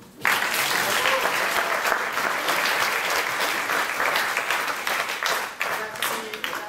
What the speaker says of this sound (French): On applaudit Cécile.